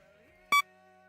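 A single short electronic beep for a thermometer item in a ghost-hunting video game, one clean tone lasting a fraction of a second against a faint background hum.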